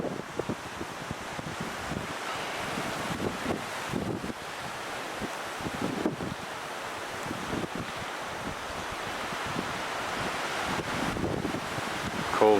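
Cold, blustery wind on a coastal hiking trail in Tierra del Fuego, Argentina, a steady rushing roar buffeting the microphone throughout with gusty swells, surf-like and fairly loud.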